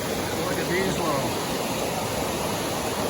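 A small cascading waterfall in the Smoky Mountains gives off a steady, broad rush of water, constant and fairly close, with no pauses through the clip.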